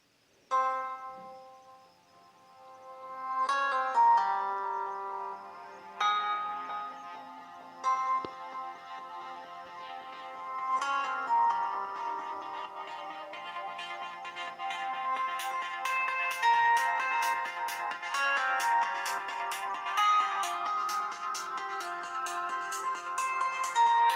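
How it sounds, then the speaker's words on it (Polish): Polyphonic ringtones play on a Sony Ericsson Zylo W20 mobile phone, a series of melodic electronic tunes with chiming notes that start, stop and build into a busier, brighter passage, close and fairly quiet with no talking. "sobie sprawdzimy jeszcze kilka dzwonków tych nieoryginalnych w jakości tutaj flag"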